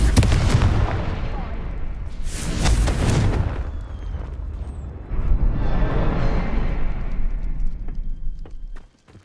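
Fiery blasting-spell explosions from Hogwarts Legacy boom in loud bursts, one big blast near the start, then a long rumbling roar of crackling detonations that cuts off abruptly at the end.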